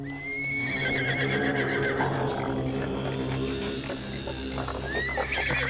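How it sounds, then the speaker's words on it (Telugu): A horse-drawn cart arrives and halts, with a horse whinnying loudly at the start and again near the end over rhythmic hoof clip-clops and a low droning backdrop, close and continuous with no speech. "ఒక గుర్రం బండి అక్కడ ఆగుతుంది."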